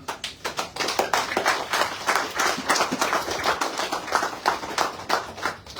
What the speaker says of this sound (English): I thought you would clap for yourself